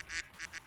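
Ducks quack in the Street Fighter Alpha 3 arcade game, four quick nasal honking quacks in an even rhythm, clear and fairly close with nothing else over them.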